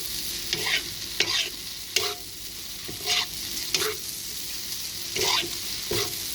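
Repeated scraping and clattering of a spatula stir-frying rice vermicelli in a hot wok, over a steady background sizzle, with irregular strokes every second or so.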